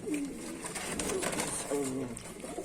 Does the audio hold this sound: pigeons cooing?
yes